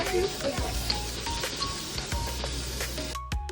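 Beaten eggs and tofu for Pad Thai fry in a pan with a steady, close sizzle broken by scraping stirs, ending with a short pause and a final clatter.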